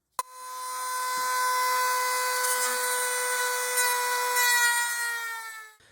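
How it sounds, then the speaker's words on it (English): A Dremel rotary tool cuts through a plastic skeleton, starting abruptly into a high, steady whine with ringing overtones that holds for about five seconds before cutting off. "I'm going to cut that off with a Dremel"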